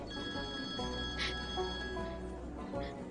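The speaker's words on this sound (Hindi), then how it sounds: "पापा का फोन आया" A telephone rings with a steady electronic tone that repeats a few times over faint room ambience.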